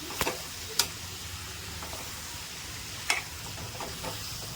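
Masala chicken with salt, turmeric and chili powder being sautéed in a pan for a chicken thokku: a faint steady sizzle with a few sharp scraping clicks of stirring scattered through.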